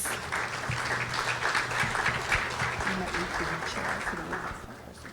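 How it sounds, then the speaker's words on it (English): Sustained audience applause at an annual women's award gathering, welcoming a liturgical dance group. Many hands clap evenly throughout, with voices faintly audible beneath the clapping. "We want to introduce now liturgical dance from the Kings Park Dance Group. And please give them a round of applause."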